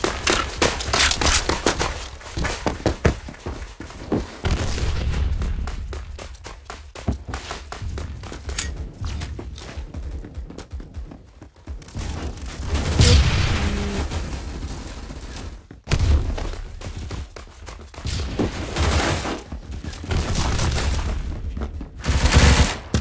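Heavy automatic gunfire and explosive booms in Phantom Forces come in long rattling volleys broken by brief quiet gaps, close and loud throughout.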